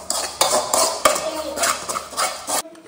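A spoon or spatula scrapes and clatters steadily against a metal pan while fried ingredients are mixed with chili powder, repeated close metallic strokes with no one talking.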